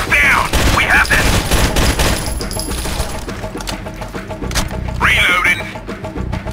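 Rainbow Six Vegas video game gunfire: loud, dense bursts of rapid shots pound through most of the stretch, with brief shouted voices and effects mixed in near the start and end.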